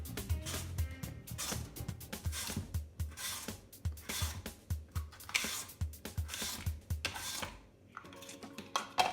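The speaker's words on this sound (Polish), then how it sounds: "Dosłownie z góry na dół warzywo kroimy i ono idzie idealnie na frytkę" Vegetables pushed down through a Hebel V5 mandoline slicer to cut fries, giving a run of repeated close scraping, clattering cuts in a steady rhythm, with a brief pause near the end.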